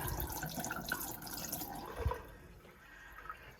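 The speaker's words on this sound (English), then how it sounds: "We're going to put some pink stuff down the P-trap." Pink RV antifreeze poured down a sink P-trap while winterizing a motorhome, a short close splash and gurgle of liquid into the drain that fades after a couple of seconds.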